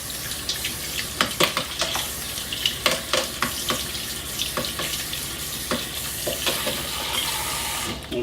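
Ripe organic tomatoes being washed in water at a sink, with irregular splashes, sloshing and light knocks against a steady running-water hiss, close and moderately loud, no talking.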